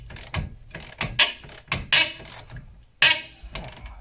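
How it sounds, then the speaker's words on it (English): A ratchet works on a shock absorber bolt of a 1999 Opel Astra, giving close, sharp clicking bursts in an uneven rhythm with brief gaps, each stroke a loud snap followed by quieter ratcheting. "But for now, get the other shock bolt off."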